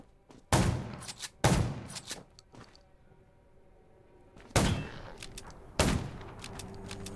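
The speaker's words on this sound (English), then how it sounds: "Gunshots" Gunfire in the zombie video game Undawn: five or six sharp, loud shots in spaced bursts with quieter pops between and a gap of near-silence midway, no voices.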